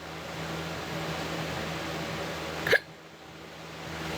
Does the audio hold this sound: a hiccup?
yes